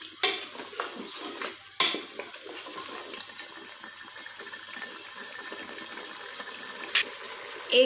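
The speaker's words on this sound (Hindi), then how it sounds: "अब हम इसे 1 मिनट तक भूनेंगे।" Mutton frying in a pot for shorba, a steady moderate sizzle and hiss with a few heavier stirring clunks early on and near the end.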